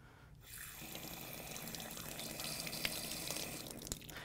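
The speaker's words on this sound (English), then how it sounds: "I'm then going to go ahead and proceed with flushing my test cock." Water flushing out of an opened test cock on a backflow prevention assembly during a test procedure, a steady hissing rush that starts after a brief quiet moment and continues alone.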